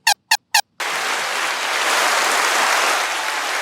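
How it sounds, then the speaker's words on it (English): Three short bursts like a honking horn sound first, then a sustained round of applause takes over and holds steady at moderate loudness to the end. "A little round of applause there"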